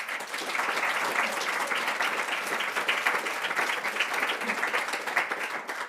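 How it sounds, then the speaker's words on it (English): An audience at a European integration colloquium applauds the debaters with even, sustained clapping that holds at a steady level from start to finish. "J'aimerais qu'on applaudisse nos débatteurs."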